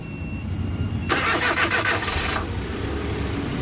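A Suzuki DA64 engine, recently repaired for crankshaft knocking, cranks with the starter for just over a second and catches, then settles into a steady, close idle.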